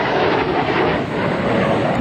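An AV-8B Harrier jet makes a low, high-speed pass at a military open-house air demonstration, producing a loud, continuous roaring jet noise that fills the whole moment without any voices.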